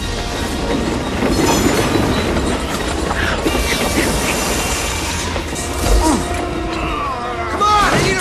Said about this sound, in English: Nobody's driving this train.